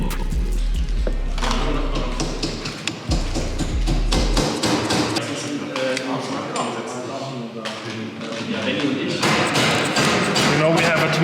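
Hammering on a bicycle part in a workshop, a run of sharp metallic blows and clanks, loud and close, mixed with rattling and a low rumble at the start.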